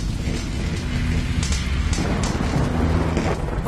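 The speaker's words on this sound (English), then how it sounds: "Bastard rain." Steady, dense rain hiss fills the scene, with low rumbling undertones and occasional brief bursts, continuous and fairly loud throughout.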